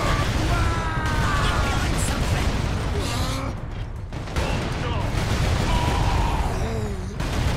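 Dense bursts of gunfire and grenade blasts from the Warhammer 40K: Space Marine video game rattle almost without pause, loud and chaotic, with someone talking over the din.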